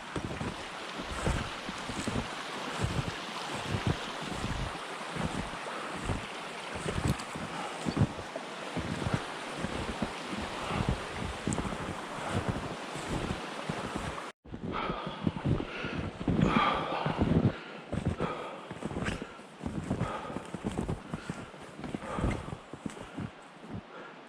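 Loud, steady rushing roar of falling water at Tibbets Falls with wind buffeting the microphone and rhythmic thumps of footsteps throughout.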